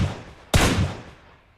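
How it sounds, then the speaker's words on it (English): A single sharp gunshot from a video game squad scrim, loud and abrupt, followed by a short decaying echo with no talk. "So Supreme taking shots down at ZPX"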